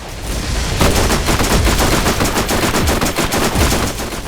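Rapid, continuous automatic gunfire from a turret in the Borderlands video game, loud and close, forming a dense rattling burst that runs the whole clip without any talk.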